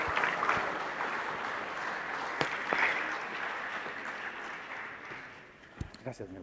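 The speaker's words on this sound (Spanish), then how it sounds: "Fuerte los aplausos" A conference crowd in Lima gives a sustained round of applause welcoming Edgar Pacheco, a broad, fairly faint roar of clapping that fades near the end, with a few louder bumps and voices breaking through.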